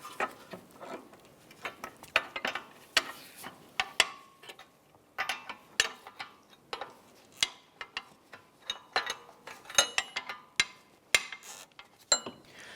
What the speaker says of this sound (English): Let's go ahead and remove this nut off this ball joint here